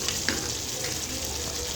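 Chicken karahi fries in a pan while a spoon stirs it, a loud continuous close sizzle with light scraping and small pops, no voices.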